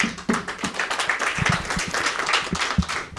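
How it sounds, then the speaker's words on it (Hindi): An audience breaks into clapping during a lesson, with uneven, fairly close hand claps forming a lively patter for a few seconds. "आपके लिए तालियां।"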